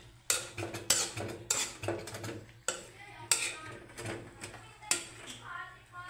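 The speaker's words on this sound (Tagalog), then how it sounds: "Haluin po natin ulit." Green papaya dish being stirred in a pan: repeated metallic scrapes and clinks of a utensil against the pan in an irregular rhythm, close and fairly loud, with faint talk and a low steady hum underneath.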